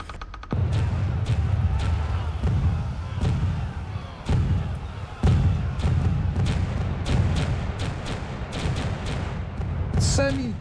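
Cannon fire from a naval siege battle at La Rochelle, with the guns aimed at the English fleet: repeated dull booms and thuds over a continuous low rumble, spaced unevenly throughout at moderate loudness.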